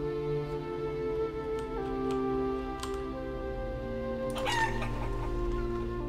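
Chickens in the farming video game Life is Feudal: Forest Village, several hens clucking repeatedly over a steady musical backdrop, with a short rooster crow rising near the end.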